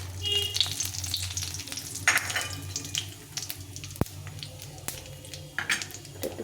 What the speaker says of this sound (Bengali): আমি শুকনো লঙ্কা আর তেজপাতা একটা আর জিরে নিয়েছি সাদা জিরে তো এটা দিয়ে দিলাম